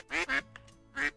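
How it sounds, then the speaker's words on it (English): Several ducks quack indoors, three loud nasal quacks close by with softer calls between them, heard on their own with no talk. "the ducks surrounded her like children greeting their mother"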